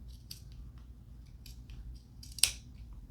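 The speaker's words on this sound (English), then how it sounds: "And then you're going to simply cut along that curve." Scissors cut along a curved line through sewing-project material, a few soft snips close by ending in one sharper, louder clip.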